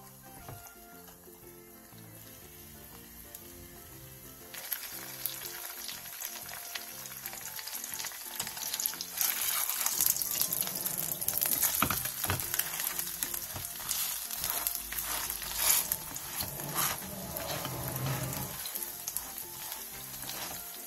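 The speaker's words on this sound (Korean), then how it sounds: "팬에 기름을 두른 뒤 배추를 올려 중약불에서 앞뒤로 노릇노릇하게 부쳐주세요." Cabbage leaves fry in oil in a pan, a quiet hiss at first that grows into a loud, steady sizzle with occasional crackles, no voices.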